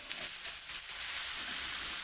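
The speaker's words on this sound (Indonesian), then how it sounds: "Tuang sedikit minyak goreng, selanjutnya masukkan bumbu yang sudah dihaluskan tadi. Tumis bumbu hingga matang." Ground spice paste sautéing in a little frying oil, a steady close sizzle and hiss running continuously with faint stirring, no voices.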